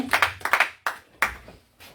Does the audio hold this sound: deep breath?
no